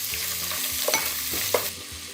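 Soy protein stir-fried in a pan with sesame oil, a close, continuous sizzle with a few sharp spatula scrapes and taps against the pan, no voices.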